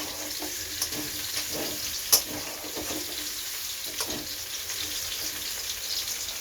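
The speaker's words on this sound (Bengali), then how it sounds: "এবার আমরা আলুর দমটা কষাবো।" Potato curry (aloo dum) with cashew and nut paste sautés in a pan, giving a steady close sizzle with soft stirring scrapes and one brief clink.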